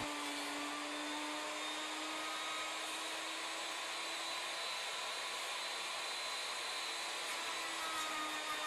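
A CNC milling machine cutting a wooden Native American flute blank round on a quick roughing pass, giving a steady high-pitched whine and whir with a constant motor tone, close and unbroken, with no voices.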